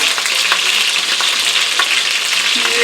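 Chicken sears in a heavy Dutch oven, giving a loud, steady, dense sizzle and crackle with small pops throughout. No one talks over it.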